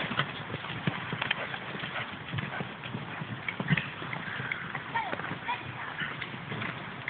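Horse hooves clip-clop in a steady rhythm during a riding lesson in which riders canter, with a continuous patter of footfalls beneath an instructor's spoken commands.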